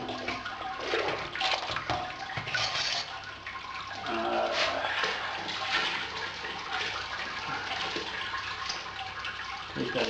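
Wort drains from a Brewzilla all-in-one brewing system during a corn ale brew, a continuous splashing trickle of liquid with shifting gurgles, fairly close and steady throughout.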